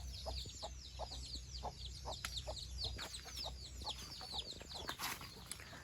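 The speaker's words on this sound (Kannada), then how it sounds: "ನೋಡ್ತಿರ್ಬೋದು ಎಲ್ಲ ದೊಡ್ಡ ಕೋಳಿಗಳು ಇಲ್ಲೇ ಇದೆ" A flock of large country chickens clucks steadily nearby in a rural shed area, many overlapping calls in a continuous, busy chatter with no talking.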